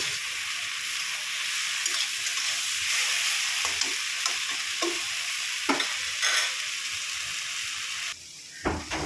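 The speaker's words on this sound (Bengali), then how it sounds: "দেখুন, শাকটা ভাজা ভাজা হয়ে গেছে।" Water spinach (kalmi shak) with slit green chillies stir-fries in a pan with a steady hissing sizzle, broken by occasional stirring scrapes and clinks, and no voices.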